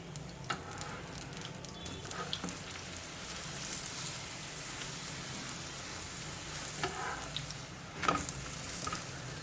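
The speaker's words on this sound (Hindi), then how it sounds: "एक पराठा मैं देसी घी में पकाऊंगी और दूसरा पराठा मैं कुकिंग ऑयल में पकाऊंगी" A mooli paratha frying in desi ghee on a pan gives a soft, continuous crackling sizzle with light spatter and a few sharper pops, close and fairly quiet, without any talking.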